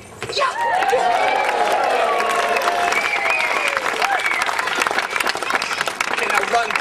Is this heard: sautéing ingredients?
no